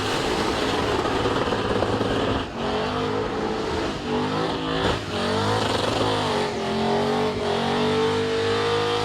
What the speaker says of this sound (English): Lumpy engine though.